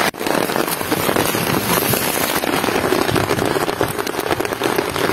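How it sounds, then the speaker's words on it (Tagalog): Heavy rain pouring outdoors at night in a rice field area where frogs are hunted, a dense continuous hiss with crackling drops, loud and close throughout with no talk. "Yan, lumalakas yung ulan, pabor sa atin yan."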